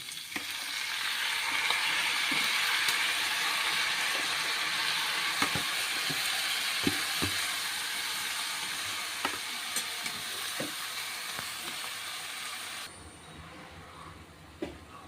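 Onion leaves and potatoes frying in a pan give a steady close sizzle for about thirteen seconds. Scattered sharp clicks and scrapes from stirring punctuate it, and then the frying noise drops away to near quiet.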